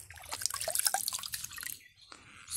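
Cold, clear stream water in a Konkan village falls and trickles in scattered close drips and splashes, thinning into a brief lull before the splashing starts again.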